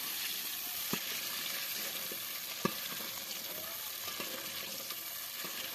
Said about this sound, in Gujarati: અને આપણા બપ્પાએ હવે ડુંગળી પકડાવા મૂકી દીધી છે તેલમાં.